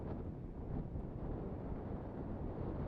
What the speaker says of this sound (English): That's why you're hearing the wind pretty periodically cut across our